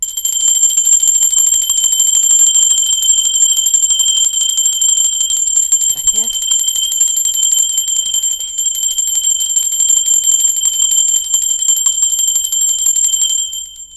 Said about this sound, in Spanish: Ok, va campana.